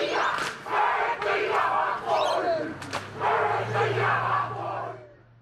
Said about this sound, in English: Then they performed the haka.